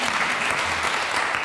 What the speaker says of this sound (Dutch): graag een applaus voor Ralf